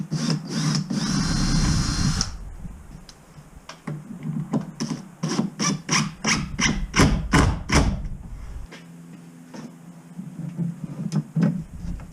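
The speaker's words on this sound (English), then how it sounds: "Now, I got to find us a drill and a pilot bit" Power drill fitted with a pilot bit boring into wood on an enclosed trailer door, heard as a loud opening whir followed by a run of short rhythmic bursts and thumps, close by.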